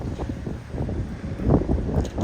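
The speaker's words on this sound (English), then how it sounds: "It is windy." Steady wind buffeting a microphone, a low rumbling roar that swells and gusts, loudest in the middle.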